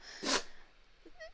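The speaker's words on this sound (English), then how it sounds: "sorry if you heard that, that's my dog sneezing." A dog gives a single sharp, close sneeze indoors, followed by a brief faint sound.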